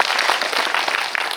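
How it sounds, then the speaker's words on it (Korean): An audience at a film talk event claps loudly and continuously, a dense wash of close applause that fills the whole moment. "박수 주세요"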